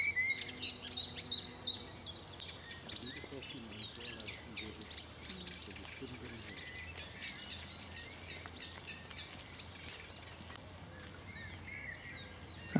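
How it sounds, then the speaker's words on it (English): A blackbird and a chiffchaff sing in a spring nature reserve. A burst of loud chirps comes near the start, then the song continues fainter among other birds while someone speaks quietly beneath it. "the blackbird and chiff chaff are dominating."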